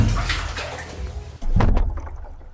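An EarFun UBOOM L waterproof wireless speaker drops into bathwater in a tub: steady sound, then a brief pause and a sudden loud splash midway, followed by sloshing water.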